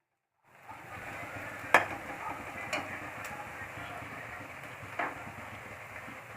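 Onions sizzle steadily in a hot pan while cooking for chole, a continuous close frying hiss broken by a few sharp ticks of a spoon stirring against the metal.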